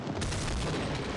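A dense, continuous wash of gunfire as an enemy is shot in Half-Life, loud and unbroken across a short moment with heavy booming low end.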